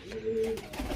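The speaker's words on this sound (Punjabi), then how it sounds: "ਟੈਡੀ ਕਬੂਤਰ ਹੈ, ਸਲਾਰਾ ਟੈਡੀ ਮਾਸ਼ਾਅੱਲਾ" A teddy pigeon gives a single soft coo, close by and fairly faint, with no talk over it.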